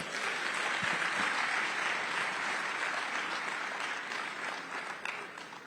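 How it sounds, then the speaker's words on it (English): A big round of applause from a large audience at a sustainable development talk, a full, steady roar of clapping that holds strong and then begins to taper slightly toward the end. "I think that calls for a big round of applause"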